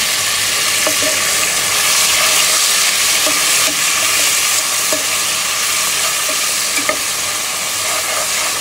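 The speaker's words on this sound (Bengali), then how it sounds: "এইখানে দেখতে পাচ্ছেন পেঁয়াজ ভাজতেছি" Onions fry in a pan for ilish pulao, a loud, steady sizzle with light crackling and occasional spatula clicks, close by, with no talking.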